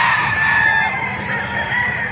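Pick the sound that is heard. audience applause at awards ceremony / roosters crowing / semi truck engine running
roosters crowing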